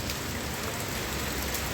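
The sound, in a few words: rain falling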